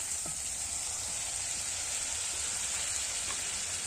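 Doi begun masala, a spiced eggplant curry, sizzles steadily in hot oil in a pan, a continuous bright hiss with faint crackles and no voices.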